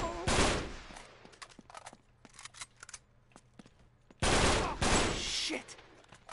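Gunfire in the video game Uncharted 3: Drake's Deception, two loud bursts of rapid shots at the start and near the end, with scattered single cracks and clicks in between.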